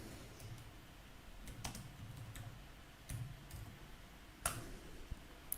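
Someone types on a computer keyboard in a quiet room, producing scattered, irregular key taps and clicks with one sharper keystroke near the end.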